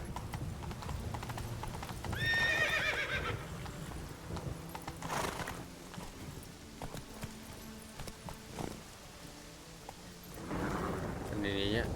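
Roach the horse in The Witcher 3 trots with rhythmic clip-clopping hooves and gives a whinny, set against a rainy, thundery backdrop, with talk heard at moments.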